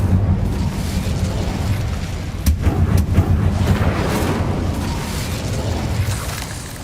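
Fiery spell blasts in Hogwarts Legacy on PS5, with a steady roar of flame and explosive bursts, a sharper crack near the middle, continuous and loud with no talking.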